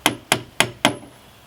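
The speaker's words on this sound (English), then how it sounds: "I'll get the lag started by hammering it through" A hammer strikes a lag bolt through a wooden brace four times in a steady, evenly spaced rhythm, each blow a sharp, close, solid knock with a short ring, no talking.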